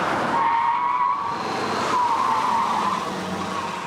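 A car driven hard on a road test skids, tires squealing in a long wavering whine over engine and road noise, loud and close with no talk.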